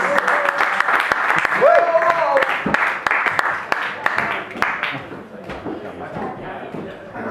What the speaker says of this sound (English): Applause, yes, that's right, applause.